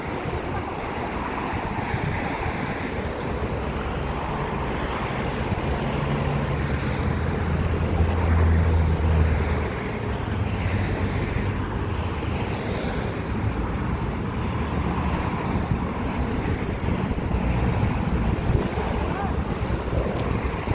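Wind rushes outdoors in Yerevan, buffeting the microphone in steady, rumbling gusts that swell and ease over about twenty seconds.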